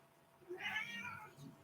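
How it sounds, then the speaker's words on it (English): A domestic cat meows once in a drawn-out, wavering call close to the microphone, with a short softer sound following, in a quiet room. "that's my cat"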